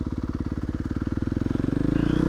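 Yamaha YZ250F dirt bike engine running close by, a rapid, pulsing four-stroke thump that quickens and rises in pitch as the throttle opens.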